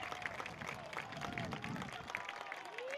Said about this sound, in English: You hear the crowd, and all the subs love it.